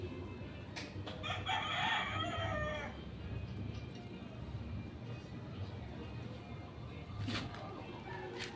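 Hens cluck in a busy farmyard while a rooster crows partway through, set against a steady outdoor rumble with a short call near the end.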